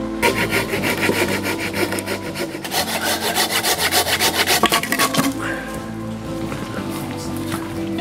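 Steady back-and-forth sawing through dead wood logs outdoors, close and rhythmic, the strokes quickening before fading into quieter rustling at the end.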